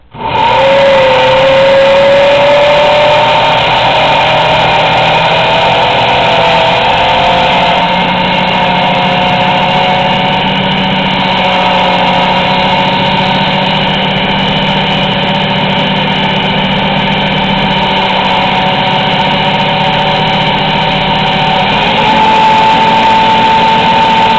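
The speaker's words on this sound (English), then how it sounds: "you are just going to puree these until they're nice and velvety smooth, with no lumps or any clumps of beans" Black beans are pureed in a blender into a smooth batter for brownies: a loud, steady motor whir runs continuously for over twenty seconds, with a slight shift in pitch near the end as the load changes.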